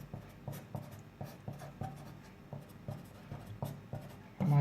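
Pen writing on paper while working through a math function, a close, quiet series of regular scratching strokes and taps in an even rhythm, with a louder bump at the end.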